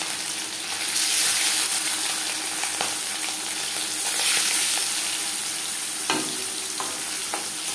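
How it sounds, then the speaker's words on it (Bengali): Marinated chela fish frying in a few spoons of hot refined oil makes a loud, steady, close sizzle with bubbling spatter and a couple of brief clatters; no voices. "4 চামচ রিফাইন্ড অয়েল গরম করে নিয়েছি। এবার দিয়ে দেব ম্যারিনেট করে রাখা মাছ।"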